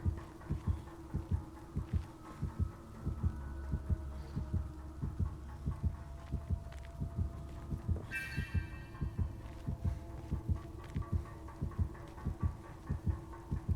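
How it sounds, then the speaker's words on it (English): The killer's terror radius heartbeat thumps in Dead by Daylight, a steady low double-pulse beat repeating throughout with game ambience underneath and a brief sharp rattle partway through. "I can hear that heartbeat, and I'm just waiting for her to, like, pop up near this door."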